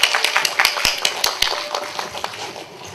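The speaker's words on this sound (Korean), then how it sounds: "네, 박수로 고맙습니다. 환영해 주세요." An audience claps to welcome a speaker at a public radio broadcast lecture in Busan: a run of scattered, fairly sparse hand claps that thin out and fade over a few seconds.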